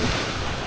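Sea waves wash steadily onto the beach at Nasugbu Bay in Barangay Bucana, Batangas, a loud continuous surf roar mixed with wind buffeting the microphone for under a second.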